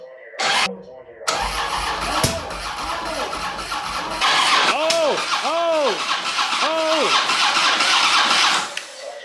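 A Harley-Davidson Road Glide motorcycle from a salvage auction starts up for the first time after a long repair, with the starter cranking, the engine catching and revving in rising and falling swells close by, then settling before cutting off.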